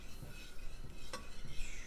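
A utensil stirring liquid in a cooking pan, with soft continuous scraping and swishing, close and fairly quiet, with a single sharper clink partway through.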